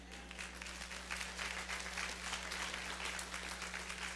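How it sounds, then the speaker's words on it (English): A live audience applauds continuously, a dense, fairly faint patter of many hands clapping over a steady low hum. "That's a good place to clap."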